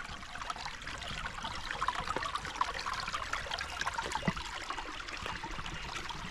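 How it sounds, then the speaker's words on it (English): Water streams steadily into a full farm dam or pond, a continuous close trickling and splashing flow with no voices. "You got a lot of water running in there."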